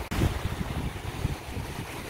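Strong, hot wind roars across the microphone over the steady wash of crashing waves on Lake Peipus in Estonia, loud and continuous with no voices.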